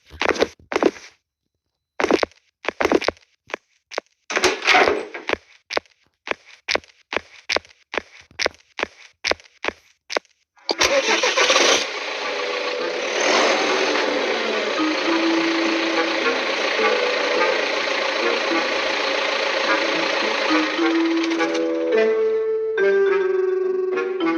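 A series of clicks and knocks gives way to a tractor's diesel engine cranking and catching, then running steadily at a loud idle.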